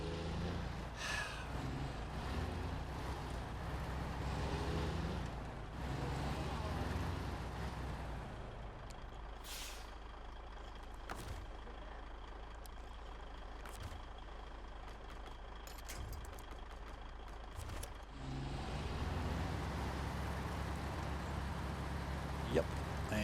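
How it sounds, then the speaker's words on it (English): A heavy truck engine in the SnowRunner video game drones on steadily, its low rumble dipping and returning, with a few short mechanical clanks and an occasional faint beep over it. "If I could put the truck in the right freaking gear."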